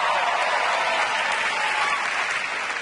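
A stand-up comedy audience claps in dense, sustained applause that fills the room at even volume and tapers slightly at the end.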